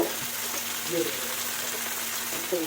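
Cabbage sizzling and frying in a pan with potatoes, a steady continuous crackle throughout with occasional faint stirring.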